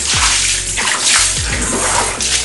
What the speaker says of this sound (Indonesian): kita langsung bilas, kita bilas semuanya sampai bersih guys